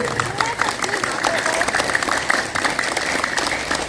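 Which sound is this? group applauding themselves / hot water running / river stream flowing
group applauding themselves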